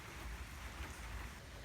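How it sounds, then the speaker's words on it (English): Rain pours steadily outside, a dense continuous hiss and rumble that stays even and fairly loud throughout, with no voices. "Got some rain going over here."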